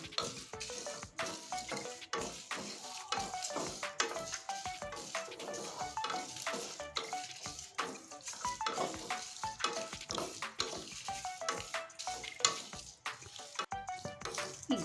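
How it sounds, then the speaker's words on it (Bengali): Cumin and spices fry in a pan for a homemade chanachur masala, crackling and sizzling steadily while a spoon stirs and scrapes against the metal in quick, irregular strokes, close and fairly quiet. "একটু জিরে দিয়ে দিছি এক চামচের মতো এবার মশলাটা সুন্দর করে ভেজে নেব"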